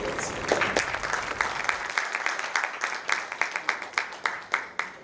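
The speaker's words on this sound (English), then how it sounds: "Please give big round of applause to sir." Applause from an audience at a keynote address on blockchain in Ahmedabad, dense clapping at first that thins into scattered, sharper individual claps trailing off over about five seconds.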